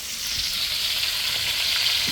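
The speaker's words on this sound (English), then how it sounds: "So they're frying the fish." Two large tilapia fry in hot oil, a steady, loud hiss of sizzling that runs unbroken and close throughout.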